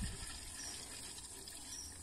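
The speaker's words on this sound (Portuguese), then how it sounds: "Tá chegando água nenhuma, não. Só chegando vento." Air hissing and sputtering steadily from a household water tap on a municipal supply line at four in the morning, a continuous rushing gush with no water flowing, close and unbroken.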